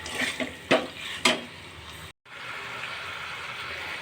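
Chicken being sautéed with turmeric and salt in a pan, with a few sharp scraping strokes of a spoon against the pan over a low sizzle, then a brief cut and steady soft frying.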